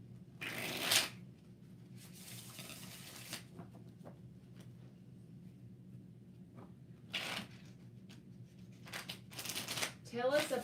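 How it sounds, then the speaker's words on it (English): Tarot cards are shuffled in quiet bursts with soft riffling and papery flutters. Several separate shuffles come and go over a low, steady room hum, and a person can be heard talking through it. "2 more shuffles."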